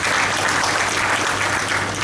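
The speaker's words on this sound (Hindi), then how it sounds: "आप भी ताली बजा लीजिए" Applause from the audience at a Hindi dastangoi storytelling performance: a steady, dense clapping that fills the whole moment, fairly loud and even, with no talking over it.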